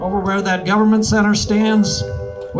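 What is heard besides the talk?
No everyday noise stands out behind the speech.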